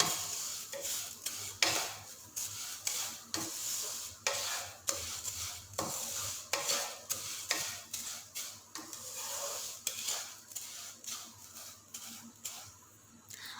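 Vermicelli (seviyan) and sugar being stirred in a pan, with repeated scraping strokes of a spoon against the metal over a light sizzle, close and steady.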